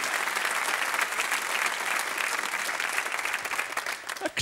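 Audience applause at a TV comedy show, steady and dense clapping from a studio crowd that thins out near the end.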